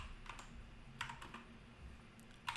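Quiet keystrokes tap on a computer keyboard while typing in the MySQL command line, coming in short irregular clusters with small pauses between them.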